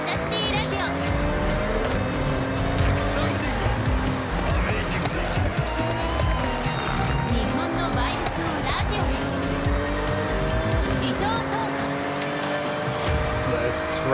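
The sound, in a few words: car sliding with tire squeal in Forza Horizon 6 video game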